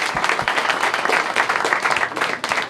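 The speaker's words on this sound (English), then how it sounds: "Another round of applause." A comedy-show audience applauds, bursting into a full, close patter of many hands that carries on without a break, with a few cheers mixed in and no talk over it.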